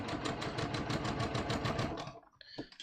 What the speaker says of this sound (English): So again, I'm just literally sewing right on each side of the line here